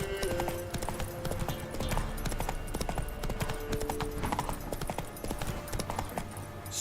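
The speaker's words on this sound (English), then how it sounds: "Come on, Roach" A horse's hooves clip-clop in a steady, brisk rhythm while riding in The Witcher 3: Wild Hunt, loud and continuous over a dense game soundscape with music and ambience.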